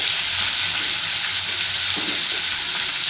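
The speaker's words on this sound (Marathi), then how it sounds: "कांदा हे मिरची लसूण व्यवस्थित परतून घेऊयात आपण" Sliced onion, green chillies and garlic sautéing in a pan for dhaba-style shev bhaji, producing a loud continuous sizzle and crackle of frying, close up and steady throughout with no talking.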